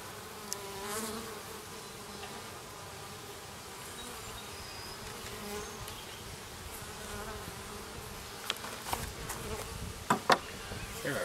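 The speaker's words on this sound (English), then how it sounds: "There are so many bees" Dense swarm of honeybees buzzes steadily around opened foundationless hive frames, a constant close drone with occasional handling knocks toward the end.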